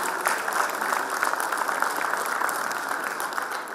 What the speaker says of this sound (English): Come on guys, big round of applause.